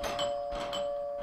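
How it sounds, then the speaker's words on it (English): A doorbell rings in a scary Xbox Live indie game, a clear electronic two-tone chime with a sustained pure tone, loud and close. "Someone's ringing my doorbell."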